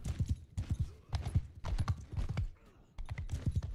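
Horse hooves gallop in the medieval combat game Mount and Blade 2: Bannerlord, a fast, loud, steady clip-clop rhythm close by with a brief lull near the end.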